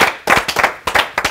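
A small group of people clap in short bursts at a company's third-anniversary celebration, with several quick uneven rounds of close, fairly loud hand claps separated by brief pauses.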